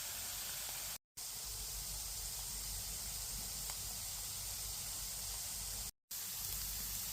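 Chopped onions fry in olive oil with a steady, even hiss that carries on alone and unbroken apart from two brief cuts.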